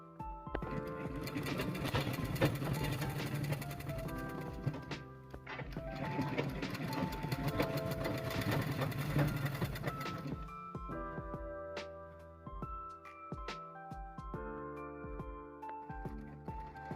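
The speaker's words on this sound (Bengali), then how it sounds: "এইবারে এই জয়েন্টটাকে এর সাথে সেলাই করে নেব।" A sewing machine stitches a joint on a handmade doormat: close, rapid mechanical whirring in two long bursts, then slower, separate stitch clicks with brief pauses between them.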